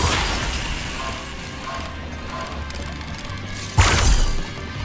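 A popcorn gun firing at a clown in the video game Killer Klowns From Outer Space gives a steady mechanical clatter and ratcheting, then one sharp, louder crashing burst near the end. No voices are present.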